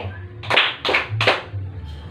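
Three sharp hand claps in steady rhythm from a classroom clapping game, "tepuk sore," played in a primary school science lesson, standing alone and close over faint background hum.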